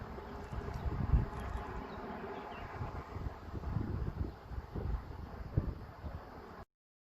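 Gusty wind blowing outdoors buffets the microphone with a continuous low rumble and irregular stronger gusts, with no talking.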